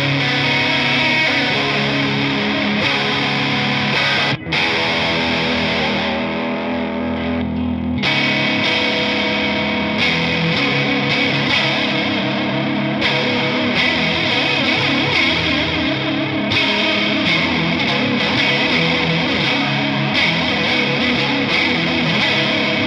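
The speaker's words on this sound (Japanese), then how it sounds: "まあこうレイトを速くすれば割と ちゃんとコーラスっぽいっていうかね" An electric guitar runs through an EarthQuaker Devices Aurelius Tri-Voice Chorus pedal with a fast rate, giving a thick, distorted, swirling tone that plays loud and continuous for over twenty seconds, with no talk.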